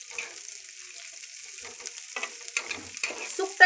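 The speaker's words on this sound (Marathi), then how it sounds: "तुम्ही बघू शकता कांदा टाकत आहे. खूप सोपी आहे बघा चटणी. चांगलं तेलात फ्राय होऊ द्यायचा." Onion fries in oil for a dried-fish chutney, a soft, steady sizzle with gentle stirring scrapes that grow a little busier toward the end.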